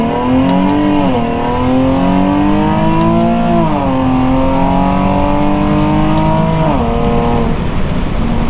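A Nissan 370Z sports car engine revs loud and close in third gear, pitch climbing steadily then dropping at each of several gear shifts, with no voices.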